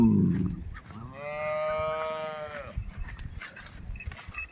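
A single long, low moo from a cow that calved about four days ago rises and holds for over a second, fairly close, with faint background rustling before and after.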